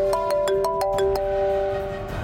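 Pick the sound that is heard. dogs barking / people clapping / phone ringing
phone ringing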